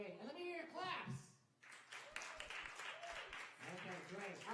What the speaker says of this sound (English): let me hear your claps